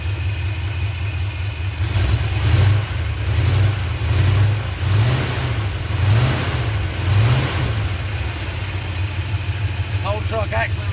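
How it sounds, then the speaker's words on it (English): A pickup truck engine fitted with a 4-barrel carburetor on a 2-barrel intake, running without a fan shroud, rumbles steadily with several rhythmic revs rising and falling, while a person talks nearby. "This whole truck actually runs pretty good."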